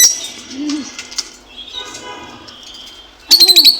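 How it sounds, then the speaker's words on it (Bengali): Birds call in a rural morning setting: a few short coos and chirps spread through the clip, with a louder burst of repeated rapid calls near the end, close by and mixed with faint background sounds. "দেখছেন আর পাখি কত সুন্দর ডাকে"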